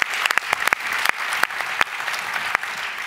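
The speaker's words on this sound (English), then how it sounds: "can we all really give Becca a great hand clap?" An audience at a conference session claps for a presenter, a short burst of dense applause with sharp individual claps, lively and close, with no speech.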